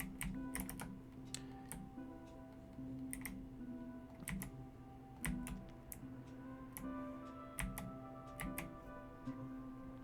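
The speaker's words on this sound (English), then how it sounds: "I think you can hear every keyboard click." Quiet computer keyboard typing during a Minecraft game session, with irregular clicks and clacks in short bursts over a soft steady background hum.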